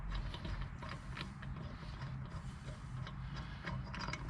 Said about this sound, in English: Let's get that loosened, and then we'll just spin out the nut.